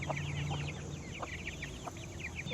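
Chickens clucking in short, repeated calls spread out across an outdoor yard, with soft steady background noise and no talking.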